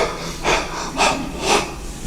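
A voice imitates a dying man's labored gasping breaths with three heavy, breathy rasps at even intervals. The gasps are close and fairly loud over a faint background hum.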